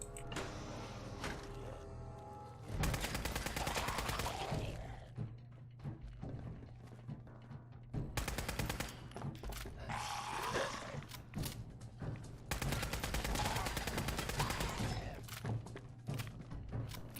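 Gunfire at a feral ghoul in Fallout 4, heard as three loud bursts of rapid shots separated by quieter stretches of low game ambience.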